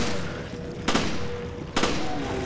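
Two sharp gunshot bursts from Resident Evil: Revelations ring out about a second apart, loud and close over a low hum of game ambience.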